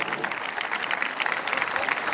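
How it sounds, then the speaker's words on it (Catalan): Sustained crowd applause at the Festa del Batre threshing festival in Jesús Pobre, a continuous dense roar of many clapping hands, fairly loud and steady throughout. "Un fort aplaudiment per a tots els cantadors que han pujat"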